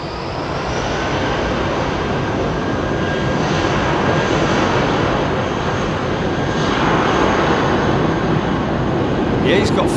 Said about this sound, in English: So that's 2 JetBlues that have gone out this morning.